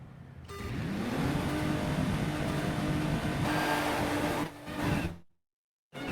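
Rally cars in DiRT 3 launch off the start line with engines revving hard and rising in pitch, a loud continuous roar that dips briefly near the end, then cuts to silence before sound returns.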